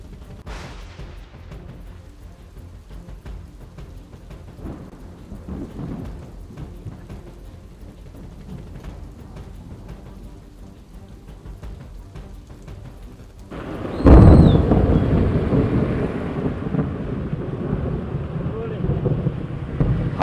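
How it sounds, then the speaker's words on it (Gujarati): Heavy rain in Ahmedabad, a broad steady wash with wind buffeting the microphone, a sharp loud crack like nearby thunder midway, then a heavier, louder downpour to the end. "વહેલી સવારથી જ અમદાવાદમાં ભારે વરસાદ પડી રહ્યો છે"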